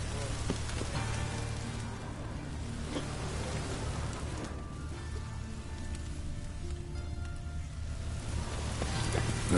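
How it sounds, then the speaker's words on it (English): Steady rain falls in The Witcher 3 video game, a dense, even patter on surfaces that keeps going without a break under low background rumble. "Looks like rain."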